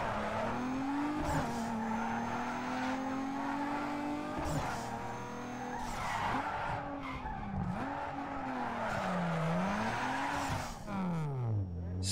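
A race car in Need for Speed Underground 2 skids and spins out, its engine droning and shifting pitch as tires squeal loudly through long sliding swerves, with a voice talking briefly underneath.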